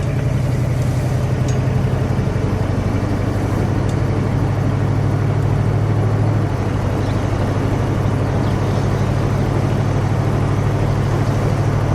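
A 1966 Ford Country Sedan fire chief's wagon drives along, its engine a steady, loud low drone with road rumble that holds unbroken throughout.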